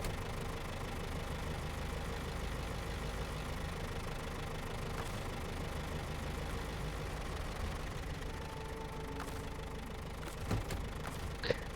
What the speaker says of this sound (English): We're gonna stop the engine on that truck